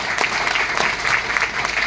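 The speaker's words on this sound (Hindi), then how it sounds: "एक बार जोरदार तालियां" A crowd at a business seminar claps steadily, a dense even patter of applause without cheering.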